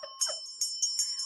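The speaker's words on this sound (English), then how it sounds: "Ring that bell from head to toe." A small hand bell rings with bright metallic strikes, about five quick chimes in an uneven rhythm, close and clear with a sustained ringing tone between strikes.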